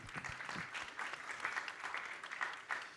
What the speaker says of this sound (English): a round of applause for tables 1 and 2 for their responses